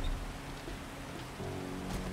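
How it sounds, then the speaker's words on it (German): Steady rainfall in the survival video game 7 Days to Die, a soft, even patter with a low background rumble, heard alone without speech. "Es regnet."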